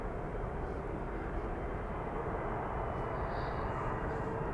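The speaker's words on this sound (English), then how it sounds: "There's a KLM 747 cargo on the move to the Polderbaan, the runway we are standing next to." KLM Boeing 747 cargo jet taxiing toward the Polderbaan runway at Amsterdam Schiphol, a steady, loud broadband engine roar that holds level and unbroken throughout, with no one talking over it.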